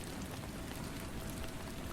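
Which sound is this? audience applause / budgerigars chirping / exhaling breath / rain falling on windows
rain falling on windows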